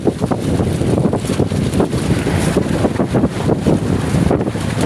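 Strong wind buffets the microphone aboard a fishing boat at sea near a reef fishing platform, a loud continuous roar with gusty rumbling and water motion, no voices.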